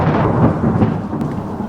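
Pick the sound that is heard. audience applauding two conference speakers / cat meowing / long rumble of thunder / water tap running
long rumble of thunder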